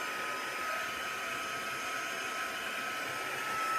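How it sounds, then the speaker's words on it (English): Close, steady whooshing hum of a heat gun blowing hot air to dry glue on paper craft cards, a constant airy whine with no breaks. "Give that a quick dry with the heat gun."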